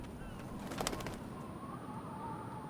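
Pigeons or doves coo softly in the background of the video game Life is Strange, a low murmuring call over steady ambient noise, with a brief flutter near the start and no talk.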